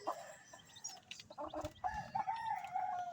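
Chickens cluck and cackle nearby, with short clucks followed by a longer drawn-out call, over a quiet farmyard background with no talking.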